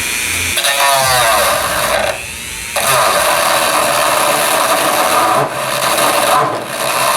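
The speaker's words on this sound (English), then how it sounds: "I'm basically going to take my Dremel and just kind of work this hole a little bit" A Dremel rotary tool enlarging a hole so a microphone can push in and stay, giving a loud, close, continuous high grinding whine whose pitch wavers as it bites, with one brief easing of pressure partway through and no talking.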